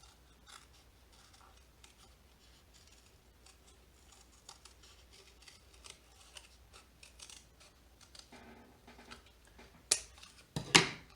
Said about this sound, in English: I'm going to take my scissors and I'm going to cut again right